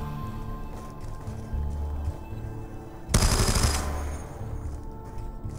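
A burst of gunfire from a gun in Black Ops 2 Zombies on the Buried map, a loud rapid volley lasting under a second over a steady low game hum.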